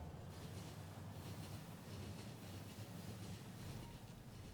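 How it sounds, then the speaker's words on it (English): A train in the factory-building game Factorio rolling back into its station, heard as a steady low rumble and rolling wash that continues evenly and moderately loud throughout, with no talking. "that train is actually just pulled back in, or is pulling back in"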